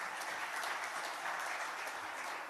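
An audience gives steady, even applause to welcome Dr. Bharat Bhaskar, director of IIM Ahmedabad, to the stage; the clapping is unbroken, moderately distant and fairly soft.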